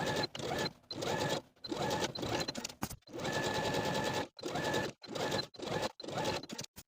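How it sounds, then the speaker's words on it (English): A sewing machine stitches a narrow zigzag stretch stitch around a knit raglan tee sleeve hem in short, rapid bursts separated by brief pauses, close and clattery. "Stitch that hem in place all the way around using a stretch stitch. I'm just going to use a narrow zigzag stitch"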